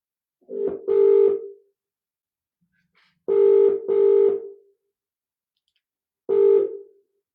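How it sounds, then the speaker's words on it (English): A telephone line rings out while a call is being placed, with two loud paired rings and then a single ring separated by silent pauses. The tones are clean and close, with no voices. "I'm going to see whether I can ring the lovely Claudia. okay, and get her live on the on the phone"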